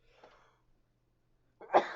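A single sharp, loud sneeze bursts out near the end, preceded by a faint breathy intake, against otherwise quiet room tone.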